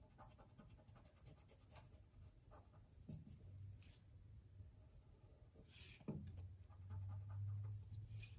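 A pencil sketching shapes on sunglasses frames, with soft scratchy strokes in short irregular bursts, close and quiet, plus a few faint knocks and handling sounds.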